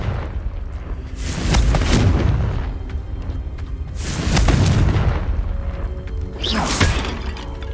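Confringo fire spells exploding in Hogwarts Legacy, three loud booming blasts with crackling debris spaced a couple of seconds apart, each swelling then trailing away over a rumbling game backdrop.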